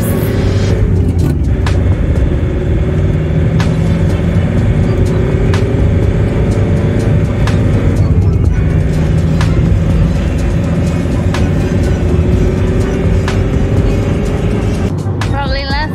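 Car driving down a mountain road away from a hop farm, steady loud engine and road rumble throughout with cabin noise and faint shifting tones, no pauses.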